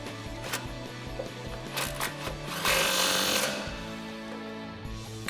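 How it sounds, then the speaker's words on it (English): A nut on a 2007-2021 Silverado or Sierra 1500 front suspension is run down with an 18 mm socket, likely on an impact tool, giving a loud buzzing rattle with a longer burst in the middle. "Grab an 18 socket and tighten that down."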